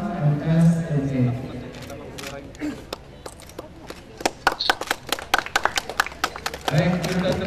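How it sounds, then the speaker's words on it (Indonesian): A church inauguration crowd in Padang breaks into scattered, sharp hand claps that build into a patter of applause between stretches of speech. "Kita tepuk tangan."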